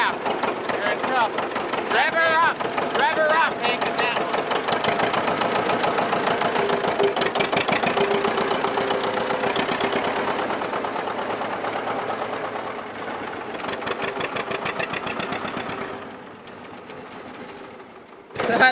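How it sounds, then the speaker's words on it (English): An engine revs hard and holds at a fast, buzzing rumble for a long stretch, easing off near the end, with voices faintly underneath. "Rev her up, Hank."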